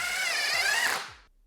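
A power drill fitted with a right-angle adapter driving a screw into a tight space, a short high whirring burst that winds down and stops, close and alone.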